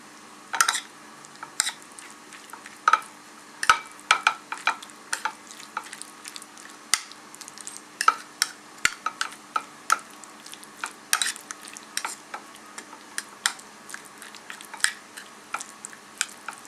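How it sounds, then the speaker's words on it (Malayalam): Thick curd raita being stirred in a bowl, a string of sharp wet clicks and spoon taps at an uneven pace, close and fairly loud over a quiet background. "ഇത് ഇനി നന്നായിട്ട് മിക്സ് ചെയ്യാം."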